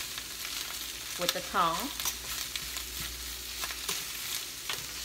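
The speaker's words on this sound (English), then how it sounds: "I'm just gonna move the cabbage around so they can get them evenly cooked all the way through" Cabbage fries in plenty of olive oil in a pan, a steady crackling sizzle with soft scraping as tongs keep turning it, while a voice speaks briefly over the cooking.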